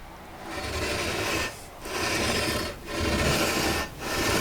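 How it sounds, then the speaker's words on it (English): 400-grit sandpaper on a leveling beam rasps back and forth over guitar frets in steady, even strokes, with brief pauses between passes; close and continuous, with no talking. "with 400 grit sandpaper on my leveling beam"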